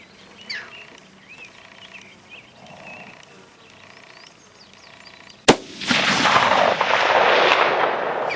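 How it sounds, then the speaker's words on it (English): A 22-250 rifle with an 8-twist barrel fires a 75 grain AMAX bullet at a target 500 out: one sharp, loud report cracks out of quiet outdoor ambience, then a long, broad rushing wash of sound trails off. "Like that keen pop at 500, that's what we like to hear."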